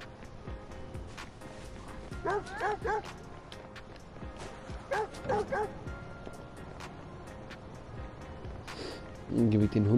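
Dog in the Watch Dogs 2 video game barking in two short bursts of repeated yips and bow-wows, fairly close, over steady game ambience, with a louder bark at the end.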